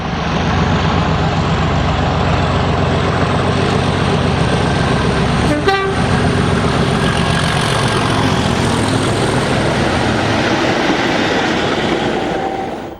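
Class 37 diesel locomotive 37611 hauling multiple-unit coaches north to Crewe passes at Leamington, a loud, close, steady roar of engine and wheels with one brief horn toot partway through.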